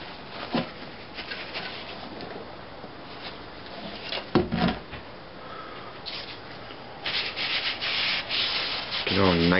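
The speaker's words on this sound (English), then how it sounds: "now I'm going to clean this all up, but I'm going to wipe it down" Wiping a go-kart torque converter driver for a 30 series Comet with lacquer thinner: repeated soft rubbing and scrubbing strokes, close and steady with brief louder swipes, no speech.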